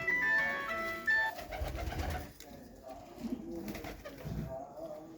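Pigeons coo in low, throaty bursts at a market sale, with a high whistling tone near the start and some background chatter.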